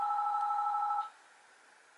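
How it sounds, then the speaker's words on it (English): A mobile phone rings with a steady electronic two-tone trill for about a second, then cuts off, leaving a faint hum. "And why does my phone have to ring?"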